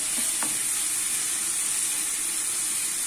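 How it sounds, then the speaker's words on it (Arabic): Green beans, boiled earlier in salted water, sizzle steadily in a hot pan with a broad continuous frying hiss, with a couple of faint utensil scrapes early on as they are stirred. "غادي نحرك حتى كتشحر مزيان مزيان"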